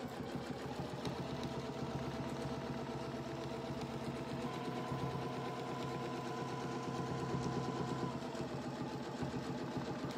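A sewing machine stitches through a quilt, running steadily and continuously at close range with a fast, even mechanical chatter and no pauses.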